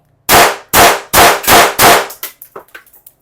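A BLOW Mini9 blank pistol fires five loud, close test shots in a quick, even sequence, each sharp bang ringing briefly, followed by several fainter echoing reports and clicks.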